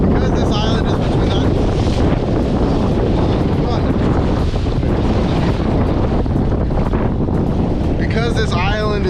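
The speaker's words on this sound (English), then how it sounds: "we've come around to the windy side" Strong wind roars and buffets steadily over open water while riding a Sea-Doo personal watercraft on the windy side of an island, loud and continuous throughout, with a voice briefly speaking near the end.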